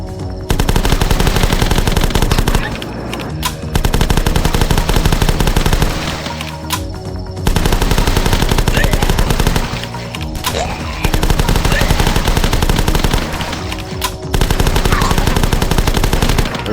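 Rapid bursts of gunfire from The Last Stand flash game, loud and dense, arriving in several sustained volleys separated by short pauses, with no talking over them.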